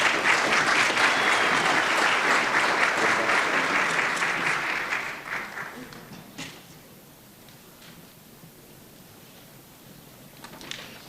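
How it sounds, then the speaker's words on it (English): Audience applause for student chamber singers at a university fall convocation, a loud, full burst of clapping that tapers off around five to six seconds into quiet room noise with a few stray claps. "Give them another round of applause."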